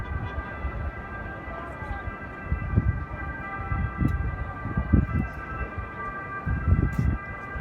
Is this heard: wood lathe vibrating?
no